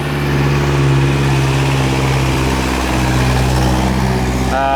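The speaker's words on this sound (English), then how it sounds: "Here comes one of those construction trucks" A construction truck engine rumbling steadily nearby in Bali, a loud, even mid-pitched drone with a slight rise in revs toward the end.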